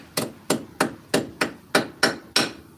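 A hammer strikes a bolt on a car strut eight times in a steady, evenly spaced rhythm, each blow a sharp close metallic clank with a short ringing decay, no talk.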